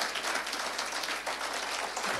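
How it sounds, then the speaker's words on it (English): An audience at a home care fellowship's 40th anniversary gathering claps, a dense, even patter of many hands that fills the whole brief moment without any talking. "Give a big clap to Daktari."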